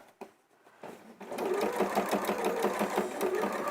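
A sewing machine stitches an appliqué cushion, starting after a few faint knocks and then running steadily in a close, continuous whirring hum, no talk.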